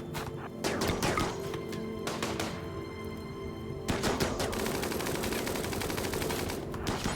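Gunfire crackles in the RimWorld video game: dense, rapid bursts of shots and impacts pile up, then ease, then break out again in sustained volleys.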